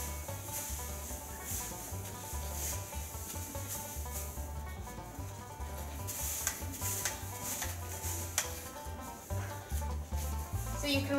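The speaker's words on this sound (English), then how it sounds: "So scrape the shavings away" Wood shavings scraped and shuffled across a horse stable floor in steady rustling strokes, close and fairly quiet, with occasional light knocks.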